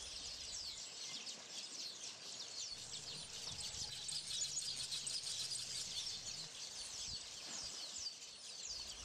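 Small birds chirp and twitter by a lake, a faint bright chorus of overlapping calls carrying steadily across the quiet open air with no voices.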